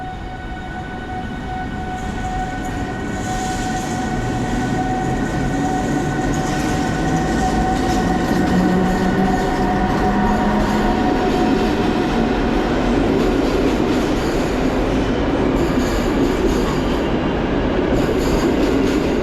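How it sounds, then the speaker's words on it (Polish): The Noteć passenger train departs Warszawa Centralna station, its rumble building steadily with rising tonal hum and squealing wheels echoing under the station, loud and close with no talk. "Razem z Gołębiem będziemy obserwować odjazd pociągu Noteć"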